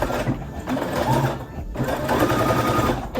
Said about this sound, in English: And now I'm gonna go take this to my sewing machine.